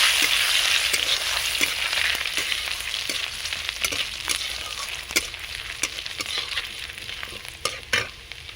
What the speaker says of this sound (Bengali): ওর মধ্যে দিয়ে দেবো রসুন বেটে রেখেছিলাম, দিয়ে দিচ্ছি। ভালো করে ভেজে নেব।